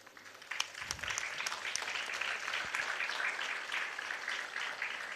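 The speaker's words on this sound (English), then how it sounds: "A big round of applause." An audience at a psychology and homoeopathy seminar gives a sustained round of applause, dense steady clapping that swells after a soft start and carries on to the end.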